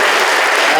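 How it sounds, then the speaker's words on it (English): Loud, dense applause from the crowd at an athletic Hall of Fame ceremony, a brief close burst of many hands clapping. "let's give another well-deserved round of applause for the class of 2024"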